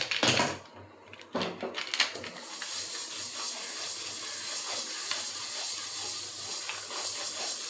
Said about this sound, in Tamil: வெந்தயம் போட போகிறேன்.